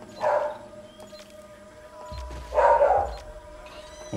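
A dog in the Amazon jungle setting of Call of Duty Ghosts gives two short, fairly loud barks a couple of seconds apart over a low, steady ambient hum.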